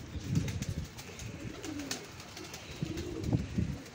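Pigeons kept in pairs coo nearby in soft, low, throaty bursts, several rounds of cooing repeating across a few seconds over faint background hiss.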